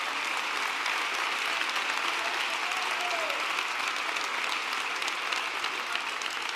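A large crowd at a political rally in Almería applauds steadily, an even wash of clapping that holds at the same loudness throughout.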